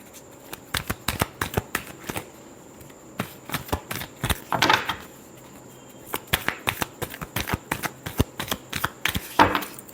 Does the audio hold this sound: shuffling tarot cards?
yes